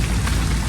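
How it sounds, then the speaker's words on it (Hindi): Steady morning rain falls close by, a dense even patter of drops on surfaces with no voices over it. "सुबह सुबह जो बारिश जो आई है ना,"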